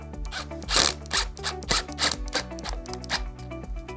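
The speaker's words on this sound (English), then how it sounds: "We're going to take our hardware screw and attach it here." A hardware screw being driven into the Y bracket of an Aeron office chair, heard as a close series of rapid clicking and grinding bursts with steady rhythmic pulses, fairly loud, no talking.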